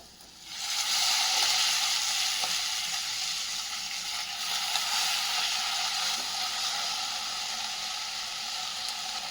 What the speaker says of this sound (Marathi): ही मेथी आपण यामध्ये घालून घेऊयात